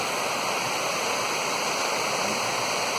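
Rushing waterfall and stream beside a campsite on the John Muir Trail, a steady close wash of falling water that fills the whole stretch, with no voices.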